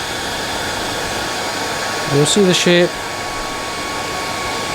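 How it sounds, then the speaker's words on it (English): A hair dryer blows on an Ally Shrimp Temple Dog salmon fly during fly tying, a steady airy hum throughout, with someone speaking briefly over it partway through. "just get the hairdryer, so just blow this on"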